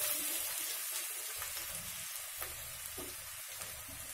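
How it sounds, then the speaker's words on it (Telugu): Finely chopped onion frying in heated oil over a medium flame, giving a steady, even sizzle throughout with no talking. "ఆనియన్ ని మీడియం ఫ్లేమ్ లో పెట్టుకొని వేయించుకుందాము."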